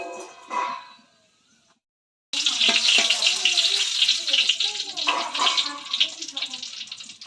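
Whole dried red chillies, cinnamon and cardamom go into hot oil and sizzle loudly and steadily after a short silence, with a voice briefly heard at the start.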